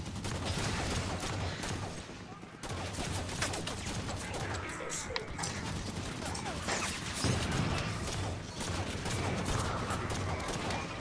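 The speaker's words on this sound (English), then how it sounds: "Turrets on and firing." Rapid turret gunfire in the Halo 5 video game on Legendary difficulty, a dense, continuous burst of shots and impacts filling the whole stretch, with voices talking over the combat.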